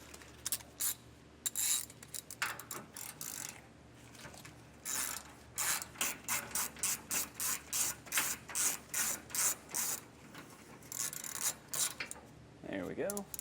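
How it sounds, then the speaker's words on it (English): Socket wrench working a bolt loose on the rear anti-sway bar of a 2023 Jeep, heard as repeated close, even bursts of ratcheting clicks with brief pauses between strokes and light handling noise, no talk. "I'm going to switch back over to a wrench for this one, or a socket."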